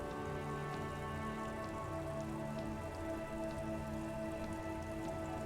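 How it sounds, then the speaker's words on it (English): Steady rain falling in the video game Disco Elysium, a continuous even patter and hiss on surfaces with no talk, layered over a low sustained ambient tone. "Stuck in the rain in a traffic jam, man."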